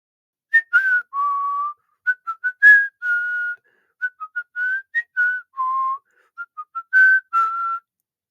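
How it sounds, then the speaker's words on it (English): A person whistles a bright, jaunty tune in short, clear phrases, each note distinct, with nothing else in the background. "Both of the flowerpot men were whistling innocently."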